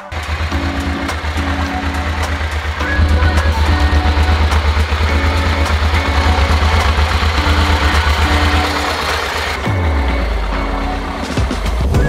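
A small engine idles loud and close with a steady low throb and regular tonal hum, stepping up slightly after a few seconds and then winding down to a stop near the end, with no voices.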